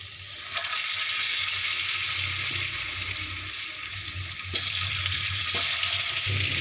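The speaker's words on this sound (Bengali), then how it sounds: "এবার এতে আলু ভাজতে দেব।" Potatoes fry in hot oil in a frying pan, a steady close sizzle throughout with a brief jolt of louder hiss partway as they are stirred or shifted.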